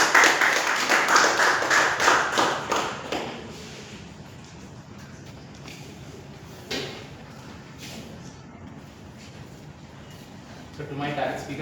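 A Toastmasters club audience claps to welcome the Toastmaster, a brief burst of applause that fades after a few seconds while voices continue.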